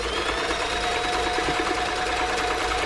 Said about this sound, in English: the fabric's going back and forwards, creating that nice stretch stitch